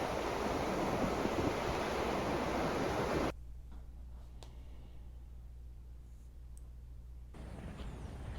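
Ocean surf crashing hard on a beach in Kuroshio Town, Kochi, Japan, a loud broad roar that drops abruptly to a quieter wash partway through, then swells again near the end.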